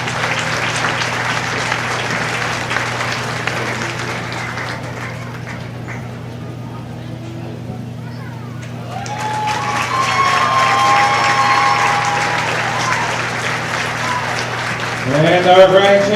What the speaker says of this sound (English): So give them a nice big round of applause here.